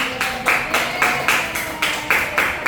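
A classroom group claps together in steady rhythmic unison, about ten evenly spaced loud clap bursts, close and continuous with no talking.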